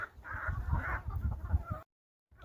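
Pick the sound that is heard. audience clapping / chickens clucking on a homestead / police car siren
chickens clucking on a homestead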